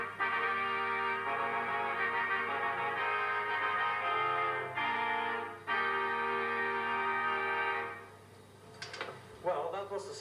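Trumpet rank from the Ritz Belfast, now on a Compton theatre organ in the Compton lounge of the Plough Inn, Hertfordshire, sounds bright, brassy sustained chords and held notes, with short breaks and a fading end.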